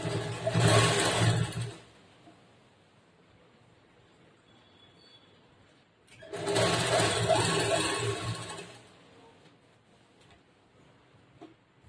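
Sewing machine running a straight line of stitches on blouse cloth, in two loud, close bursts of steady whirring, each about two seconds long, with a quiet pause between them and no talking.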